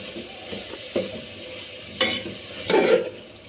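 Khoya is stirred into carrot halwa as it roasts in a pan, with several distinct scraping strokes and soft frying sizzle between them, close and moderately loud without speech.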